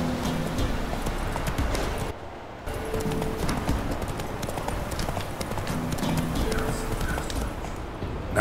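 Steady hoofbeats from the horse Roach in The Witcher 3 video game, a rhythmic clip-clop of trotting close by with a brief dip partway through.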